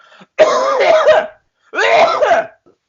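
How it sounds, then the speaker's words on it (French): A person coughs twice in public, each a harsh, throaty burst about a second long, close and loud, separated by a brief silence. "c'est tousser en public"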